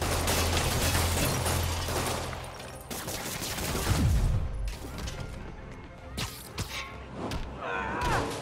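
Henchmen fire guns in Marvel's Spider-Man on PS4, a rapid fusillade of shots with mechanical clatter and thuds, with game voices and effects mixed in.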